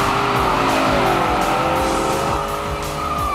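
A Dodge Challenger T/A muscle car is pushed hard on a track, its engine roaring loud and close as it shifts through gears with a rising, falling rasp, and tires faintly squeal.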